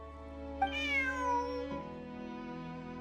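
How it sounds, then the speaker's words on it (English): A single drawn-out cat meow from the video game Genshin Impact, rising then gliding down over about a second, clear and close against a quiet steady game backdrop. "Bonnie is Pierre's cat."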